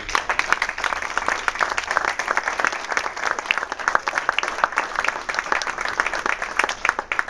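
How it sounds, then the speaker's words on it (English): Audience applause for state senate district debate candidates at a forum, sustained and fairly loud with many hands clapping in a busy, even patter from start to finish. "Let's give everyone a round of applause"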